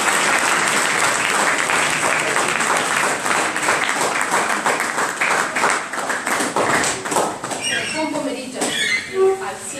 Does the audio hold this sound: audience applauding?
yes